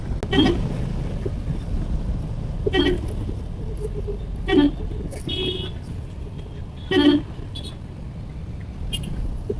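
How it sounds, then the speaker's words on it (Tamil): Horn of a tour tempo van on a busy Chennai street honking repeatedly in short separate toots spaced a couple of seconds apart, heard over steady road and wind noise. "இந்த அங்கிள் சும்மா சும்மா ஓன் அடிச்சுக்கிட்டே இருந்தா."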